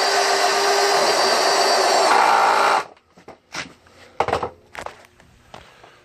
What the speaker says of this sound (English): just drill in the concrete anchor